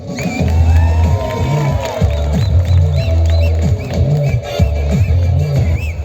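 An audience cheers, whoops and claps as a loud crowd close at hand, its roar rising and falling in waves with shouts poking through.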